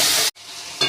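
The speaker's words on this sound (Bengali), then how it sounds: "অল্প একটু জল দিয়ে দেবো, দিয়ে মশলাটা যাতে পুড়ে না যায় কষিয়ে নেব" Spices fry in a pan with potatoes and a little added water, a brief bright sizzle that cuts out for a moment and then returns.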